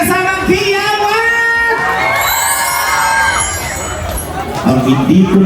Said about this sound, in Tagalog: Pwede mo ba makahingi ng palakpakan may kasamang piyawan?